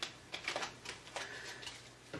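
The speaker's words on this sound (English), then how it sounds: "I'm a terrible shuffler, but in my defense, these cards are very stiff" A deck of stiff tarot cards being shuffled by hand, giving a run of crisp, irregular riffling clicks and flutters, close and fairly loud with no talk.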